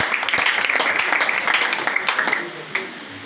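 Applause from a congregation in a church, steady clapping from many people that fades toward the end, with voices mixed in.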